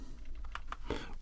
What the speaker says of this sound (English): wireless keyboard